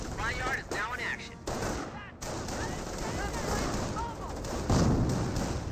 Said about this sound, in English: It's probably the mortar half track.